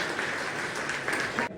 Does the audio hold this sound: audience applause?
yes